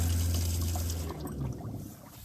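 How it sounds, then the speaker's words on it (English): Water runs steadily from a faucet in a Venturepod camper's sink, a constant close splashing stream that fades slightly toward the end. "it actually works really well. Lots of water coming out."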